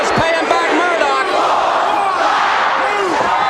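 A wrestling arena crowd in Baltimore roars during a television championship match, a loud, dense wall of cheering and shouting that never lets up, with scattered yells rising above it.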